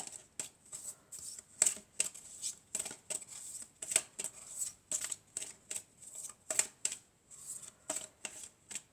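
Tarot cards being shuffled, a quick series of crisp riffling snaps and soft slides in an irregular rhythm, close and fairly quiet, with no talk over them.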